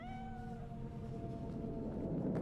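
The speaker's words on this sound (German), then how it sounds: "Was für ein hässliches Kätzchen." A kitten meows once in the video game Cyberpunk 2077, a short wavering cry over low game ambience, fairly quiet with no talking over it.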